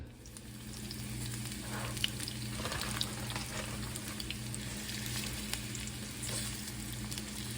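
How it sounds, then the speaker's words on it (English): Onions sauté in a pan for Panamanian-style saltfish, a soft steady sizzle with occasional light stirring clicks, fairly quiet and without speech. "let's start by sauteing the onions"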